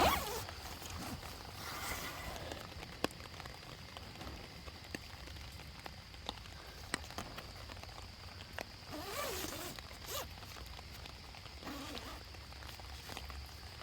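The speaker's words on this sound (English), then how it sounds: "So let's zip it back up." An ultralight 20D sil-nylon one-person tent is zipped shut, a soft rasping zipper run with light rustling of thin fabric, faint and close amid quiet background hiss.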